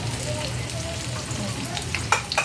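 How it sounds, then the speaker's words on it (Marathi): Vadis coated in sesame seeds fry in hot oil over a low flame, a steady, close crackling sizzle with a few sharper pops near the end and no talking. "आता आपण अशा वड्या सोडून घ्यायच्या बघा तेलामध्ये"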